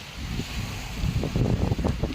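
Cool sea breeze gusts buffet the microphone with low, rumbling bursts, a steady breezy rush without any voices, on the Bay of Bengal shore at Bhatiary.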